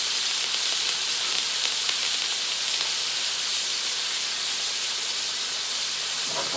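Butter with garlic and thyme sizzling in a hot pan alongside a ribeye steak, a steady close hiss of frying fat holding level throughout with no talking.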